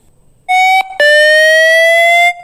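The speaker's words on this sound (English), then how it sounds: "It will play a 30-second audio with a beep sound" A loud electronic beep tone from a phone speaker-cleaning audio sounds alone, with a short blip followed by a sustained, steady high tone that cuts off abruptly.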